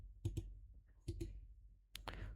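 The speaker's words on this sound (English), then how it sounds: "Right click." A few quiet computer mouse clicks in sparse pairs, close and dry, separated by short silences, with no voices.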